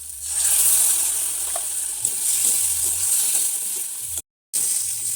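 Ginger paste and spices sautéing in a pan for a curry, with turmeric and beaten yogurt added, giving a loud continuous sizzle with light stirring scrapes and a brief drop to silence near the end.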